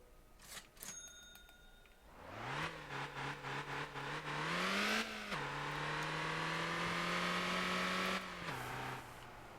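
A car engine in the driving game Motor Town revs up from idle and accelerates through several quick gear shifts, then holds a steady high drone before easing off, loud and close with no talk.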